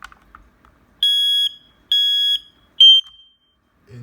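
A smoke detector emits three loud, piercing electronic test beeps after a battery replacement, each about half a second, evenly spaced and close, in an otherwise quiet room.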